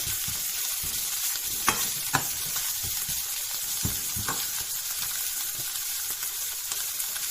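Pickled mustard greens stir-fried in a pan give a steady, close sizzle with occasional sharp scrapes and clicks of a spatula, and no one speaks.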